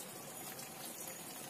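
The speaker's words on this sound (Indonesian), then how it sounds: "Masukkan air mengalir ya" Steady, hissing rush of running water pouring into a Suzuki Esteem car radiator, constant and fairly faint, with no voices.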